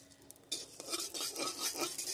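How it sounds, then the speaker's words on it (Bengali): Cumin seeds fry in a pan for a Bengali taro-leaf dish with small prawns, giving a soft continuous crackle and scrape of stirring that starts abruptly and stays steady and close, with no talk. "জিরেটাও একটু ভেজে নিতে হবে"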